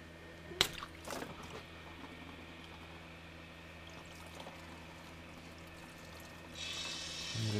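Coolant gushes out of a car during a thermostat replacement: a quiet splash and trickle with a few sharp drips early on, swelling into a louder pour near the end.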